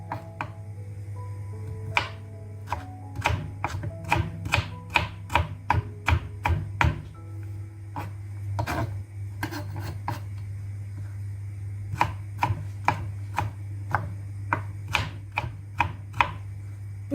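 A knife chopping ginger on a board in quick irregular bursts, crisp close taps with short pauses, over a steady low hum.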